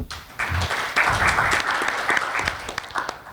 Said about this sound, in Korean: 네, 박수로 좀 환영해 주시고요.